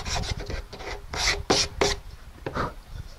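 Hand sanding of wooden base trim at a bullnose rounded outside corner: close, loud rasping strokes in short bursts with brief pauses between them.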